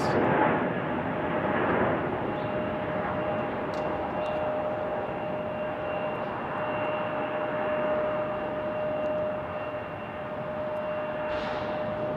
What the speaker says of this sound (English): Airbus A320 heading to Vegas.